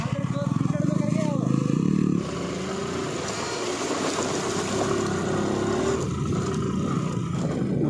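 Motorcycles climbing the Chang La mountain pass road in Ladakh, their engines droning steadily and close throughout, with a louder rumbling stretch at the start and a continuous tonal whine under the engine noise.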